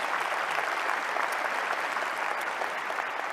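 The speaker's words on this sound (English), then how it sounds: "A loud round of applause." An inauguration audience gives a loud, steady round of applause, many hands clapping continuously throughout, with no speech over it.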